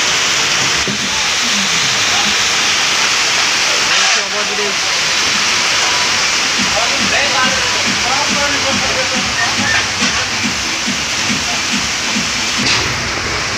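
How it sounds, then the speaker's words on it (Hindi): Heavy torrential rain pours beside the Damodar River in Jharkhand, a dense, loud, continuous hiss with someone talking over it throughout. "देखिए मूसलाधार बारिश, बहुत ही खतरनाक सीन है"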